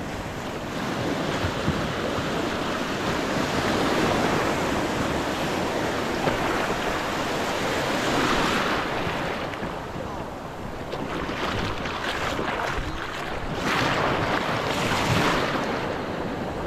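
Ocean surf rolls and breaks onto a Malaysian beach at a kayak launch spot, a continuous loud wash of waves close by with gusts of wind buffeting the microphone throughout.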